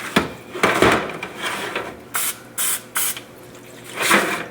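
Cooking spray hisses onto catfish and smoked sausage in a smoker in three short, crisp bursts, close by, with clatter from handling the food before and after.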